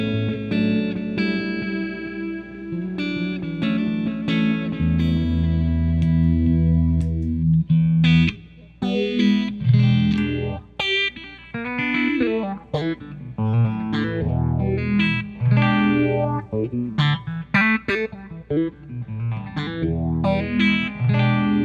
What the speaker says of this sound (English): I got my Stratocaster plugged into the pedal, into my amplifier